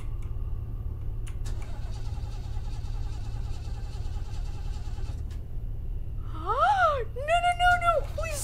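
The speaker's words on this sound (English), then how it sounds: "The car wouldn't start back up." A car in the Fears to Fathom horror game clicks and whines as its engine strains and fails to start. A steady low drone runs underneath, and rising and falling tonal cries follow near the end.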